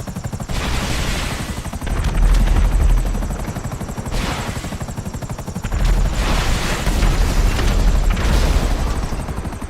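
Military helicopter in GTA 5 Online, such as a Savage or Annihilator, with a steady, loud rotor thump and engine roar that swells and fades as it flies, with no talking.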